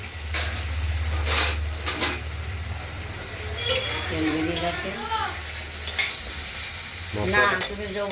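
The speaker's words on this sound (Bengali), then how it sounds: "মশলাটা কষানো হয়ে গেছে তেলও বেরিয়ে গেছে" Spice paste for a katla fish curry fries in hot oil, a steady loud sizzle running throughout with scraping stirs on top; faint voices are heard briefly partway through.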